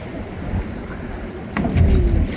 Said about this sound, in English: Big wake here.